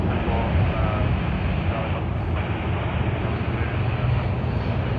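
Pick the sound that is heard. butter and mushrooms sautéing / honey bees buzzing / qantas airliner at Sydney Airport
qantas airliner at Sydney Airport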